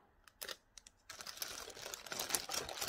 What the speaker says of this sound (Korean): 스투키 마찬가지로 열어서 볼게요. 비닐 안에 스투키가 따로 들어있을 거예요.